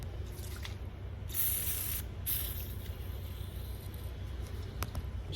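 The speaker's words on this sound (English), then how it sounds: "So what I was gonna do is spray some of this in here." Short bursts of spray from an aerosol can aimed into a backhoe part, two close hissing blasts over a low steady engine-like rumble, with a few faint clicks.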